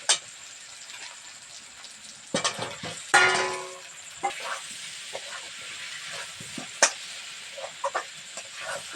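Potatoes tipped into softened frying onions in a wok for a Bihari-style chicken and potato curry give a steady close hiss that bursts into louder sizzling and crackling, with a few sharp clicks of utensils.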